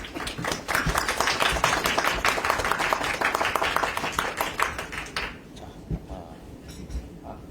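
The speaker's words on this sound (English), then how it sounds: "We'd like to ask you to give him a big round of applause." An audience at a press conference applauds a Seoul mayoral candidate with a dense wash of clapping for about five seconds, then it fades to a few scattered claps and faint room noise.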